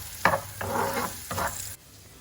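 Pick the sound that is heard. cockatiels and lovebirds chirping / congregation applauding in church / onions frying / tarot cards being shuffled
onions frying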